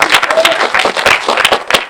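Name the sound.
audience applause at magic show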